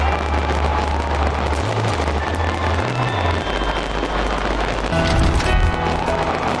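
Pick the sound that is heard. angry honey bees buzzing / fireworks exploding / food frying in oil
fireworks exploding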